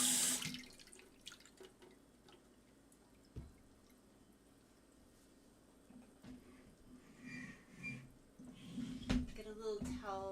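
Eggplants being washed under a running kitchen tap, with a steady stream of water, splashing and dripping, and a few sharp knocks and handling sounds; a voice talks softly over parts of it.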